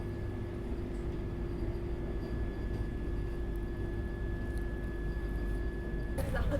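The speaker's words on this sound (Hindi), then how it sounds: "फिलहाल अपनी ट्रेन ऊंचाहार जंक्शन को स्किप कर रही है" Train rolling slowly through Unchahar Junction, heard from on board: a steady low rumble with a faint tonal hum and a few light clanks, ending in a brief louder rattle.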